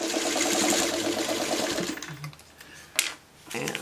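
A sewing machine stitching a paper-pieced Friendship Star quilt block runs in a fast, even mechanical whir for about two seconds, then stops, followed by a brief clunk and light handling noises.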